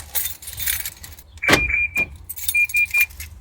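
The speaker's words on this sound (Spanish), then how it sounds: "Ahora sí vamos a dar switch on." A key turns in the ignition of a Nissan Platina or Renault Clio, keys jingling with a few clicks and short electronic chimes beeping twice in close succession inside the car.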